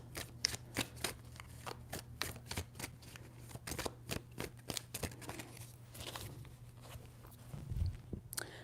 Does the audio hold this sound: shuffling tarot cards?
yes